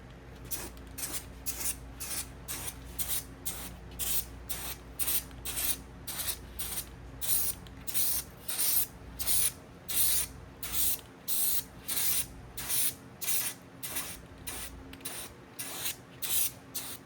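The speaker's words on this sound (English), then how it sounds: "we'll throw one more coat of the adhesion promoter on here" Adhesion promoter is sprayed from an aerosol can onto a faded car cowl grill in a steady run of short, even hissing bursts, close and fairly loud throughout.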